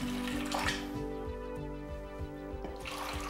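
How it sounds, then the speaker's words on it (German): Water is poured into a jug for making soy milk, a steady splashing stream that fills out over a few seconds. A low mechanical hum runs underneath. "Und ich habe hier Wasser. Ich gieße erstmal halbe Kanne hier rein."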